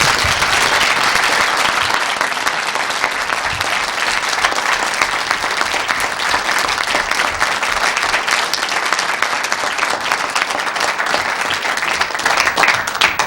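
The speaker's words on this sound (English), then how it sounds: "let me ask for a round of applause for both teams" An audience applauds both teams at the close of a 2005 moot court eastern final: dense, steady clapping from a full room, loud and sustained without a break, no voices above it.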